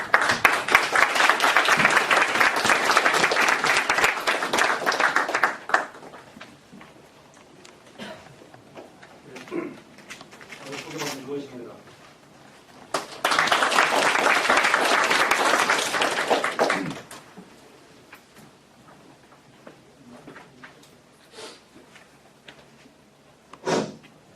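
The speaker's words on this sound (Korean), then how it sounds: "큰 박수 부탁드립니다." Lecture audience at a philosophy colloquium in Korea clapping in two loud bursts of dense applause, each lasting several seconds, with quieter shuffling and scattered sounds between them.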